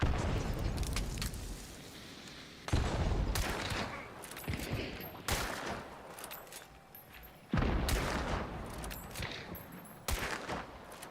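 Gunfire in Hunt: Showdown rings out as several loud, echoing shots spaced a few seconds apart, each with a sharp crack followed by a long rumbling decay, under occasional voices.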